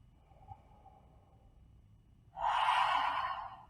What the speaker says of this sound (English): Take a grounding breath.